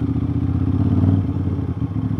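A twin-cylinder Aprilia RS660 with a freshly swapped exhaust rumbles loudly nearby, its throaty burble swelling briefly in a light rev before settling back to a steady idle, alone with no speech.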